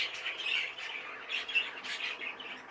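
A young captive-bred bird chirps and squawks repeatedly in short, high, scratchy calls, close and fairly loud, in an uneven rhythm with no talk over it.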